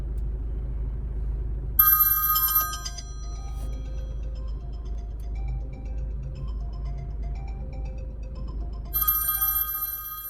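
A phone ringtone plays through a 9-inch Android all-in-one Easy Smart Navi car unit over Bluetooth. Two bright ringing bursts, one near the start and one near the end, sit over a low, steady cabin hum.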